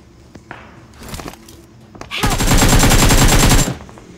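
Rapid UZI submachine gun fire in the mobile shooter BGMI, a few short bursts and then one long, loud sustained automatic volley up close.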